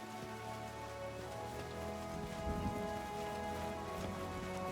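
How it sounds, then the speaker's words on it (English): Rain falls in the fantasy role-playing game Pathfinder Kingmaker, a steady pattering wash beneath a soft sustained musical drone, no speech. "I wonder how it started raining just as we climbed down that hill."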